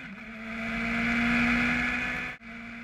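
Race car engine on board at Spa-Francorchamps in 2013, powering out of a chicane at full throttle: a steady, loud, tonal engine note that swells and holds, then cuts abruptly for an instant before resuming.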